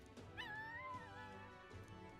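A dog whimpers in the video game Metaphor: ReFantazio, a thin, high rising and wavering whine held for about a second, then a fainter second whimper, over a low background bed.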